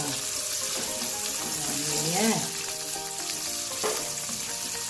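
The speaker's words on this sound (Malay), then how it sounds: "kita bubur cili dulu ya bagi dia masak dulu" Chili paste fries in a pan with a loud, continuous sizzle while a utensil stirs it, scraping and bubbling close by. A voice is heard briefly over the cooking.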